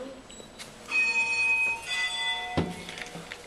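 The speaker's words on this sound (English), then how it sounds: "Let's ring the bell." A Schindler lift's bell rings inside the car, several bright metallic dings with long ringing overtones, one after another over about three seconds, close and fairly loud.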